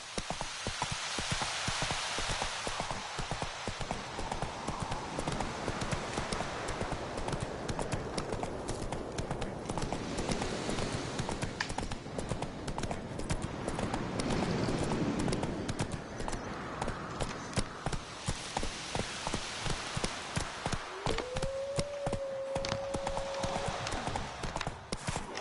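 Horse hooves clip-clopping steadily in The Witcher 3: Wild Hunt, a continuous rapid trot heard alongside rain falling, with a brief game sound near the end and no talk.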